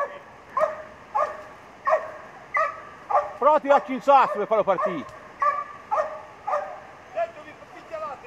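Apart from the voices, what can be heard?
hunting dogs barking during boar hunt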